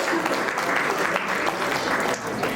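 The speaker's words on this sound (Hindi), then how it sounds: "जोरदार तालियों से पूरी टीम को ढेर सारी बधाइयां।" Steady applause from an audience at a club award and oath-taking function, cheering on a newly installed team; dense, continuous clapping throughout with no clear voices.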